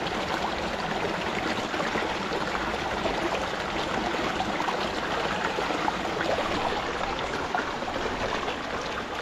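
A stream of running water in Sydney, a steady, close rushing and trickling wash that holds even throughout with no speech.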